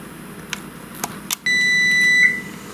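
An oven timer gives a few short separate beeps and then holds one loud steady electronic tone to the end, heard in a kitchen while a low-carb cheesecake bakes.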